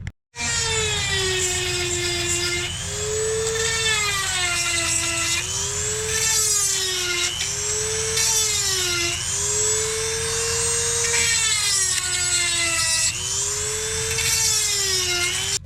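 A chainsaw chain is filed and sharpened tooth by tooth outdoors in snow at an off-grid site, giving repeated rasping strokes in a steady rhythm, close and loud, with no talk.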